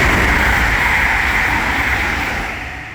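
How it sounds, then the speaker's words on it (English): An East Midlands Railway Class 222 diesel train passes close by as a loud, steady broadband rush that holds for most of the stretch and then begins to fade. "Here is an East Midlands Railway Class 222"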